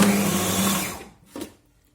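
A blender whirs loudly as it purées hummus toward a semi-liquid consistency, then winds down and cuts off, followed by a brief clunk and silence.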